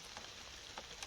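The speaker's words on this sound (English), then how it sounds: "but it's raining a lot." Steady rain patters on surfaces during maple sap collecting, a soft continuous hiss with scattered drop hits, faint and without talk.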